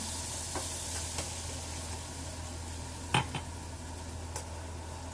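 Onion and tomato paste cooking in a pan gives a low, even sizzle close by, broken by a sharp utensil clink and a few faint taps, with no voices.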